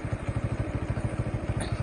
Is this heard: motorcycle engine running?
yes